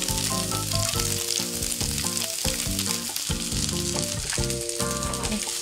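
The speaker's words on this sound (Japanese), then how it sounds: "で裏側も同じように焼いていきます" Noodles for a soup yakisoba with rapeseed blossoms and shrimp fry in a generous amount of oil in a pan, a loud, continuous sizzle heard up close with tonal music over it and no talking.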